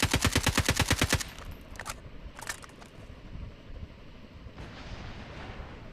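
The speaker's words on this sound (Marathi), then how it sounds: "बघा चॉपर पण फायरिंग देतो त्याला" Rapid burst of automatic gunfire from a helicopter in a battle royale video game, a loud, evenly spaced volley lasting about a second, followed by a few scattered distant shots and faint background game ambience.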